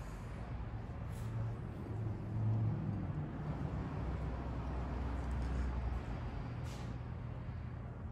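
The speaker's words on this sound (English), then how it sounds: "That's why you may still be picking up a little bit of that traffic noise" Road traffic drifting in through the open doors of a modular prefab house, a faint low rumble of passing vehicles that swells slightly and fades, with no talk.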